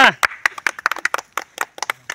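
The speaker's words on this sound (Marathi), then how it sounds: "टाळ्या वाजवा, टाळ्या वाजवा" Villagers at a hall groundbreaking ceremony clap in a brief, uneven burst of nearby handclaps, with a voice heard at the start.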